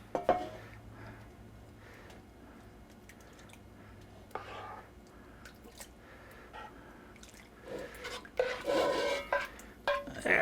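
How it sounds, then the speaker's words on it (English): Sauce is spooned over Polish stuffed cabbage rolls (golumpki), giving soft wet plops, drips and spoon clinks against the dish that grow busier toward the end, with a voice occasionally audible. "I'm going to spoon plenty of this sauce on top"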